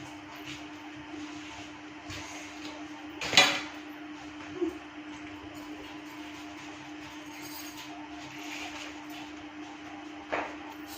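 Dishes and pots being washed outdoors in a home courtyard, with occasional faint clinks and one louder clatter of metal utensils over a steady hum and low background noise.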